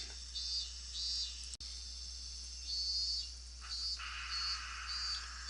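Cicadas chirp in Higurashi When They Cry, steady shrill trilling bursts that rise and fall over a low constant hum, with no talk.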